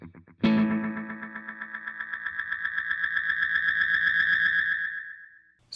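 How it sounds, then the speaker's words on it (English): Guitar delay pedal with its feedback turned high: after one struck chord, the repeats pile up into a sustained, swelling self-oscillating whine with a pulsing undertone that rises and then cuts off, loud and alone. "So it went into self-oscillation pretty fast there."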